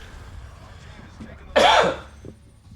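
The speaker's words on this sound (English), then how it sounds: "Sorry about the cough." A single harsh cough bursts out loudly, close by, over a quiet background murmur, then fades.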